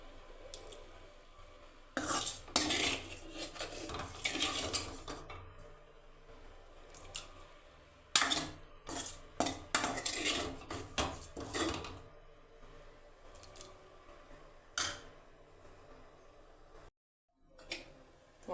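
Eggplant pieces tumbling into a pot of tomato rasam, heard as a run of close, sharp clatters, knocks and wet thuds in bursts, with quieter rustling between them and no talking.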